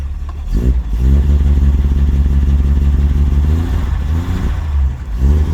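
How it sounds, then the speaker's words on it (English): A 1948 Chevy Fleetline two-door sedan starts with a brief starter crank, then its engine settles into a loud, steady, lumpy idle close by with slight throttle swells and no talking. "Turn the key on. Push the starter pedal. And she's running."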